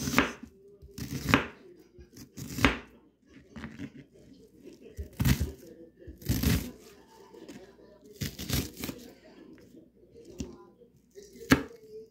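A knife chops onions on a board in slow, irregular bursts of crisp cuts and crunches, close and fairly quiet, with short pauses between strokes.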